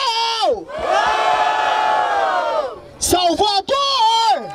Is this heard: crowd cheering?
yes